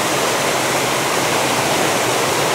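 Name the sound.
water flowing over a concrete waterfall spillway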